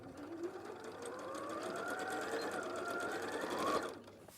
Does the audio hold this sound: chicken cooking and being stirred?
no